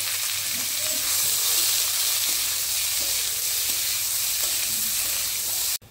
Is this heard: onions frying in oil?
yes